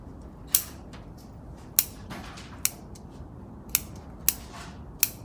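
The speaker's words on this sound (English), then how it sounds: "I'll just use the ordinary root cutting scissors" Sharp bonsai root-cutting scissor snips cutting through bonsai roots, about six crisp clicks spaced irregularly over a quiet hissy background, close by.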